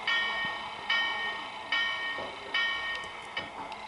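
The locomotive bell of a Norfolk and Western 611 steam engine in the Trainz video game rings steadily at a regular pace, clear and moderately loud, with no talk over it.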